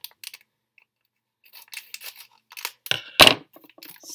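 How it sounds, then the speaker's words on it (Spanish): Scissors snip and crunch through plastic packaging while a package is cut open, a few close, sharp bursts with quiet gaps, loudest near the end. "Mira, tengo unas tijeras aquí."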